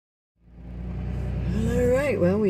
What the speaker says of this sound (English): Get ready for the bumpy ride out.